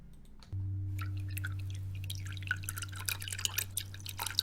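Water drips and small liquid splashes used as a sound effect in an Audacity piece, irregular and random over a low steady hum, fairly close and quiet.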